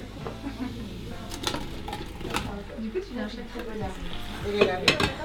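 Potatoes cooking in a pan with stirring, spoon and pan clinks and soft sizzling scattered through, alongside background talk.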